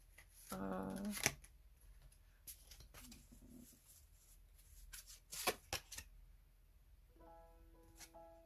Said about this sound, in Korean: 제가 하나만 더 카드를, 메시지 하나를 더 뽑아볼게요